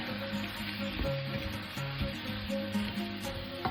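Tomatoes sizzle in a frying pan for shakshuka as a spoon stirs them, a continuous close hiss broken by repeated scraping and clinking strokes, no voices.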